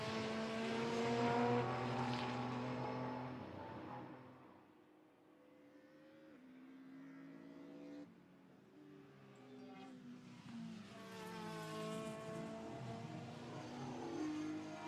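A touring race car in Heritage Touring Cup qualifying at Spa: its engine roars loudly, fades into the distance, then swells again as it revs back up close by, with no talk.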